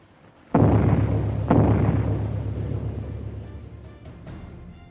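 Bombs explode over Trafalgar Square in an airplane movie scene: two heavy booms a second apart, each followed by a long, loud rumbling roar that slowly fades.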